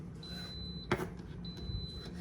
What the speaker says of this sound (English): Sorry for the beeping. My green beans are done in the Instant Pot.